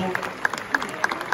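Brief applause from a crowd at a school student-recognition ceremony, scattered sharp claps standing out over a low murmur, fairly close and moderately loud.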